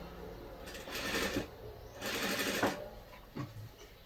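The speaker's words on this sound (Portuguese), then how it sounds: "E venho costurando." Sewing machine stitching fabric for a game controller cushion, with three quick buzzing runs separated by short pauses, close and fairly quiet.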